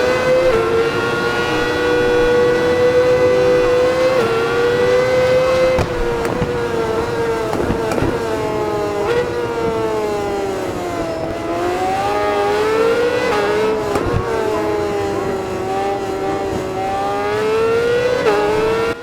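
A Yamaha FZ1 N motorcycle engine in Ride 4 screams steadily at high revs, rising and dipping through gear changes, loud and alone for the whole stretch.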